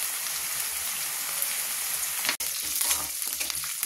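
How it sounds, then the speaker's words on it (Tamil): Steady, loud sizzling and crackling of onions, green chillies, curry leaves, mustard seeds and urad dal frying in hot oil, with a brief sharp clatter midway. "வெங்காயம், பச்சை மிளகு, கருவேப்பிலை, கடுகு, உளுந்தம் பருப்பு போட்டு வெடிக்க விட்டுருக்கேங்க."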